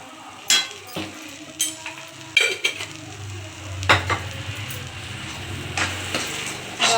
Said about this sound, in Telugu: బాగా మిక్స్ చేసుకొని